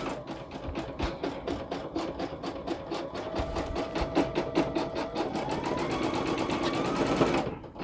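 An embroidery machine stitches applique fabric onto a T-shirt, a close, rapid, even mechanical chatter of needle strokes that runs steadily for several seconds and then halts.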